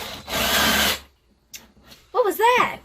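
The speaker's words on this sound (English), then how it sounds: "Now we're going to drill up there in that cabinet over through to the outside" A power drill bores through a wooden cabinet inside a vehicle to fit an outside antenna for a cellular booster: a short, loud, close whirring burst, then a pause and scraping, with a voice speaking near the end.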